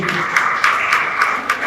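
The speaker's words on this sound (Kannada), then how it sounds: "ಮೊದಲಾಗಿ ಬಂದಿರುವಂತಹ ಎಲ್ಲ ಆಂಬ್ಯುಲೆನ್ಸ್ ಚಾಲಕರಿಗೆ ದಯವಿಟ್ಟು ಜೋರಾದ ಚಪ್ಪಾಳೆ ಬರಬೇಕು" An audience at a film trailer launch event claps for ambulance drivers, a short burst of loud applause with a few sharp individual claps standing out.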